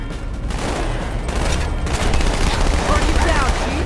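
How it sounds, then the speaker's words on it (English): Plasma rifle fire in Halo 2 Anniversary, a dense, loud, continuous rattle of rapid shots with battle noise throughout and a voice talking underneath. "Let's dual wield it with a plasma rifle here. So I can use this to shoot their shields and this to shoot their health."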